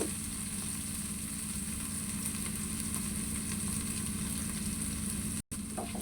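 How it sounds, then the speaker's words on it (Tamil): Ginger garlic paste sautés in a pan with a steady, close frying sizzle and a low continuous hum beneath it. There is a brief dropout near the end and no talking. "இது இஞ்சி பூண்டு பேஸ்ட்டு நல்லா வதங்கணும் கொஞ்சம், சரிங்களா?"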